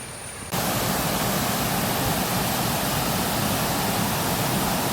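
Tambuli waterfall hidden in a green Konkan forest, a steady broadband roar of falling water that starts abruptly after a brief quieter moment and holds loud and constant throughout.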